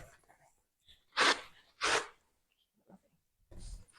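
Two sharp sneezes in quick succession, loud and close, bracketed by soft breathy inhales and a faint sniff afterward.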